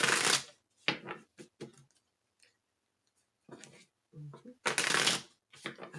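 A tarot card deck being shuffled and cut, with crisp riffling bursts of cards separated by pauses and softer handling taps, close and fairly quiet.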